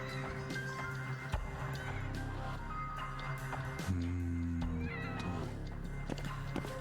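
Cats meow in a video game, several drawn-out calls rising over a busy, constant game soundtrack with no talk.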